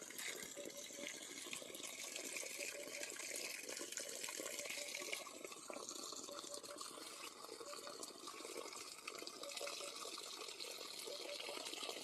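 Water runs steadily through a small hand-dug channel in a village garden in the morning, a continuous broadband trickling and rushing that stays close and even for the whole stretch with no voices.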